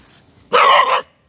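A single loud, sharp dog bark close by in a countryside setting near a small stream, standing alone against quiet background.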